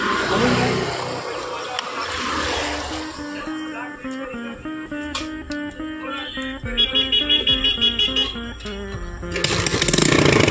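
A motorcycle that had run out of fuel is started, its engine catching into a rhythmic putter that grows louder, with a rev near the end, close by under some background noise.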